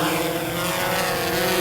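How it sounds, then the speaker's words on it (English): SplashDrone 4 waterproof drone lifting off over deep water, a steady loud propeller whine and buzz running throughout with no pauses, close to the listener and without speech. "We are good, and we can take off again."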